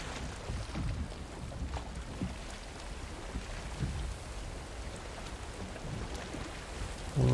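A sailing ship gliding across open water in the game Valheim gives off a steady rush of water and wind noise, even and continuous throughout with no voices.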